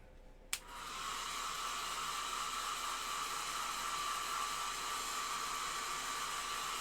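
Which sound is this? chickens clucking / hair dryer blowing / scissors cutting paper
hair dryer blowing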